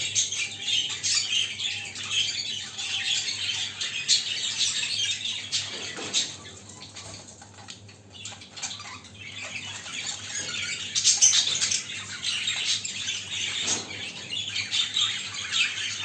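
Show budgerigars in a cage, newly paired and beginning courtship, keep up a dense, continuous stream of chirps, squawks and chatter close by, with a brief dip in activity midway before the calling picks up again.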